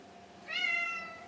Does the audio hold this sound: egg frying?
no